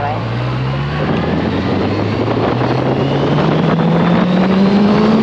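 A Honda CB650F motorcycle that has been sitting unused and tends to stall after starting, its engine revving as the throttle is twisted. The engine holds a steady, fairly loud hum whose pitch climbs slowly throughout.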